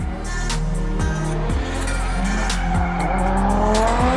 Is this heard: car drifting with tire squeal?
yes